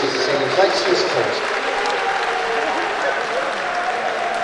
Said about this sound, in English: Fantastic crowd here.